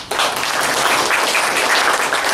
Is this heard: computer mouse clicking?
no